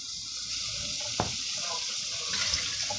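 About 4.5 cups of water run steadily into a cooking pot for chicken pilaf, a continuous close splashing rush with a brief clunk partway through.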